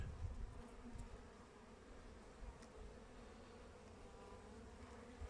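Honeybees buzz faintly at a hive in early spring, a soft, continuous hum of many insects with no voices.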